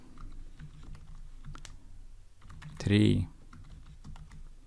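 Rapid keyboard clicks from code being typed on a computer keyboard, a steady patter of light taps throughout, with a single spoken word cutting in briefly near the middle.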